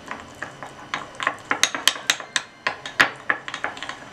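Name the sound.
beating ghee and cornflour together in a bowl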